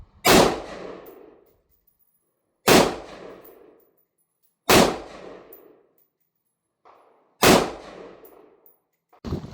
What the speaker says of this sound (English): we are going to shoot again at the close target